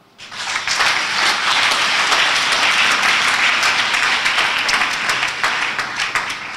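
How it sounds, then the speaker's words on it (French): A church congregation breaks into loud, sustained applause that fills the room, with dense clapping holding steady for several seconds. "Ça s'acclame."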